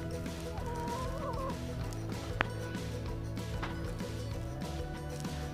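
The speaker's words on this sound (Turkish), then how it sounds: "Burada Hint tavukları var." Iranian chickens cluck steadily in a backyard coop, with a steady mix of low, overlapping calls and one brief sharp peep.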